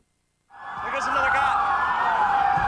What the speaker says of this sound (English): And while sirens blared